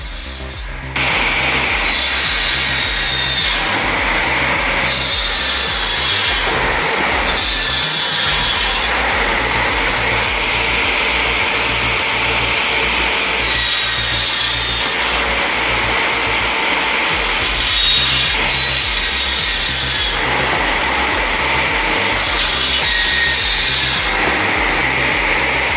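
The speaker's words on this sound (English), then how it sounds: "Looking for a heavy-duty wood chipper?" A heavy-duty wood chipper shreds wood with a loud, continuous grinding roar, broken by repeated rough, ratcheting bursts as pieces are fed in and chewed up.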